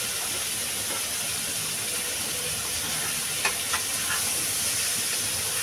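Mushrooms and washed peas frying with spices in a pan, giving a steady, even sizzling hiss throughout with a few faint clinks near the end.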